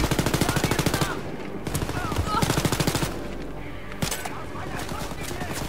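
Rapid automatic gunfire rattles in steady bursts as a player takes out a turret in Wolfenstein Youngblood, loud and close, then gives way to a single sharp shot, with voices talking over the action.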